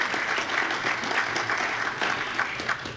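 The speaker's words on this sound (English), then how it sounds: "let's give them a round of applause" Applause for staff members at a county legislative update, a steady wash of many hands clapping at an even level throughout with no talking.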